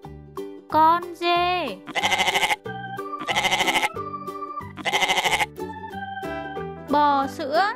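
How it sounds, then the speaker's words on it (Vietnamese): Several loud bleats in bursts, the quavering cry of a goat standing out over a bouncy children's music backing. "Con dê."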